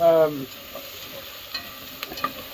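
Bacon and onions frying over a strong flame, the bacon starting to burn, giving a soft, steady sizzle with a few faint pops after a brief voice at the start.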